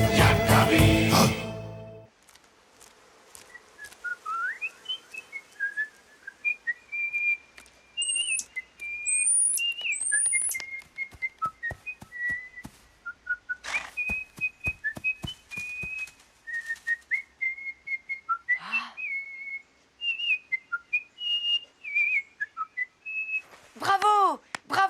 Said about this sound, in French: de tous les oiseaux, tu es le meilleur chanteur de la forêt